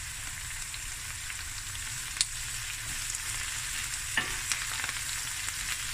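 Spinach and garlic sizzle steadily in a hot pan over medium heat, a constant bright frying hiss with a few soft clicks of stirring, close and alone.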